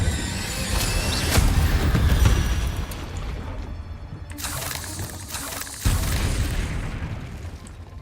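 Booming spell explosions from Confringo and Incendio in the Hogwarts Legacy video game: deep, rumbling blasts with a sharp burst near the end over a constant roaring wash, with no voices.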